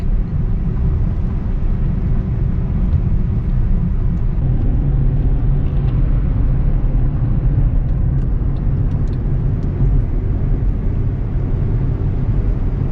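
A 2011 Honda City with a 1.5-litre VTEC engine accelerates on an open road, producing a loud, steady low engine rumble mixed with road noise for several seconds, with no voices.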